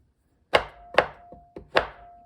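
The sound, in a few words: knife chopping chocolate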